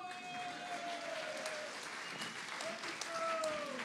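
An audience at a sports awards night in Digne-les-Bains applauds in a steady, fairly distant wash of clapping, with a voice speaking over it.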